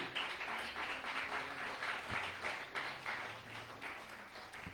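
Sustained applause from a large church congregation indoors during a Christmas sermon, steady clapping filling the room for several seconds with no one speaking over it.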